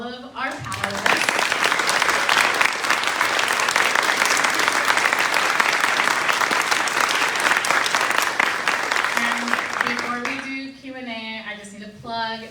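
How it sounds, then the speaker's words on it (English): An audience gives a sustained round of applause for the panelists at an abortion-access panel discussion, loud and dense clapping for about nine seconds, with someone speaking before and after. "If we can do just one more round of applause for all of our panelists."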